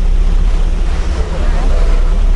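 Fast water rushes past the hull of the Pelni passenger ship KM Labobar at sea, a steady, loud, broadband wash mixed with wind buffeting, continuous and unbroken throughout.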